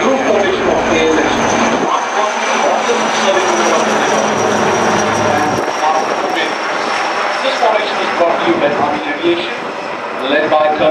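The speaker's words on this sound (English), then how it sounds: "comprising this awesome helicopter formation is the new formation of ALS" Loud rotor and engine roar of military helicopters flying in formation at the Aero India 2017 air show in Bengaluru fills the whole clip, a steady heavy drone with a choppy edge, as they pass overhead.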